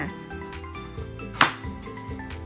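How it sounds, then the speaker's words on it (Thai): A knife chops sweet potato into bite-sized pieces on a board, with several soft cuts and one sharp, louder chop near the middle, heard alone without talk. "หั่นครึ่งเขาแล้วก็ตัดเขาพอคำค่ะ"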